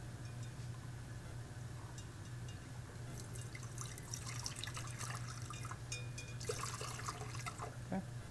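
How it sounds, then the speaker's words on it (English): Water dripping and splashing as the outside of a particle counter's tubing is rinsed during an on-site calibration, with scattered irregular drips over a steady low hum, busier in the second half. "what we're going to do is rinse this tubing off before we put it in our jug"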